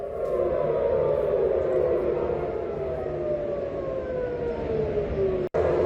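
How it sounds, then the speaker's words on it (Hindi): Civil defense air raid sirens wail across Israeli cities such as Tel Aviv and Jerusalem, a steady loud tone slowly gliding in pitch, sounding distant and reverberant, with no talk over it. "तेल अवीव, यरूशलेम सहित कई शहरों में बजे सायरन।"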